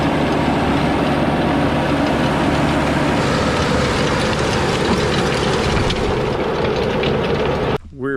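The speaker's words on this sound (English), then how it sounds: "So I just started rototilling out here" Rototiller engine running steadily in a garden, a loud, constant droning rumble with no break until it stops abruptly near the end.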